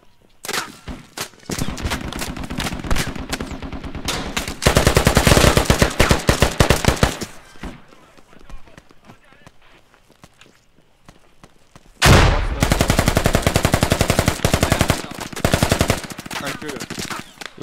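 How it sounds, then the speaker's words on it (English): A .50 caliber machine gun in the video game Squad fires long, loud, rapid bursts, pausing for a few seconds before another heavy burst, with scattered softer shots between. "A 50 cal shooting at your head"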